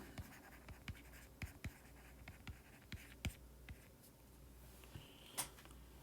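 Pen scratching across paper while writing out a physics problem solution, a quiet series of short irregular strokes and taps with a few sharper marks.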